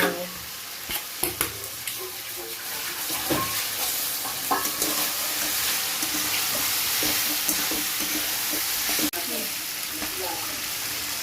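Peas and spices frying in a pan for sabudana poha, a steady broadband sizzle with scattered stirring scrapes and clicks from a utensil, close and continuous throughout.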